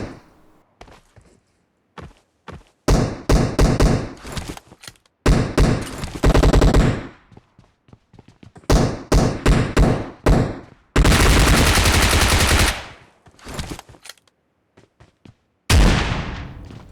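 Gunfire in the BGMI mobile battle royale game rings out in loud, close bursts of rapid automatic shots, separated by brief gaps with scattered single cracks, including one long sustained volley.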